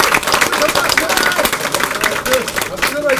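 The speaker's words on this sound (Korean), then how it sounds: "자, 큰 박수로 환영해 주시기 바랍니다." Gathered party members at the Bareun Mirae Party's 2019 New Year ceremony clap loudly and continuously to welcome former leader Park Joo-sun, with crowd chatter and voices mixed into the dense applause.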